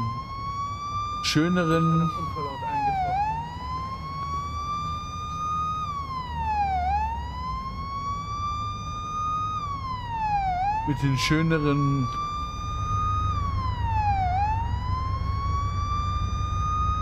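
Modded police car sirens in the video game Police Simulator wail loudly and continuously, sweeping up and down in a steady repeating cycle, while someone talks over them and brief clatters break in twice.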